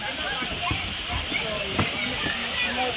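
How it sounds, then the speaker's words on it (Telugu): A mini waterfall on a hillside trail at Ahobilam pours in a steady rushing hiss, close by and continuous, with brief low splashes beneath. "అక్కడ చూడండి మినీ వాటర్ ఫాల్"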